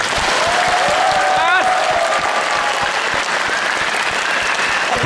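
A comedy show audience applauds at the comedian's request, a steady wash of clapping filling the room from start to finish, while a voice talks over it briefly.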